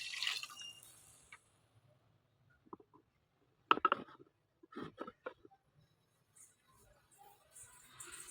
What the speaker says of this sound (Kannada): ಈಗ ಇದಕ್ಕೆ ಬೇಕಾಗಿರೋಷ್ಟು ನೀರು ಹಾಕೋಣ.